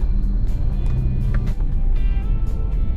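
Road traffic near an intersection in Lemery, Batangas, heard as a steady close engine rumble with vehicles idling and moving, plus scattered clicks and knocks, and no talk.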